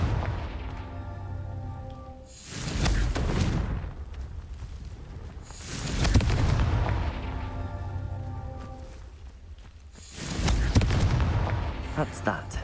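Three heavy, booming blasts from the Confringo fire spell in Hogwarts Legacy, each roughly four seconds apart with a long rumbling decay, a voice calling out the incantation before them.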